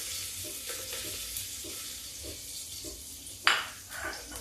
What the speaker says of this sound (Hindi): घी गर्म हो जाए तो मैं इसमें इसको डाल देती हूँ।